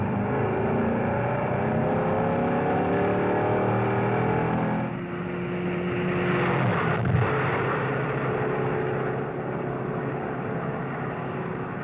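A Chrysler 300F accelerates hard from a standing start on sand, engine roar climbing through rising tones, dipping at a gear change around the midpoint, then continuing steadily and loud.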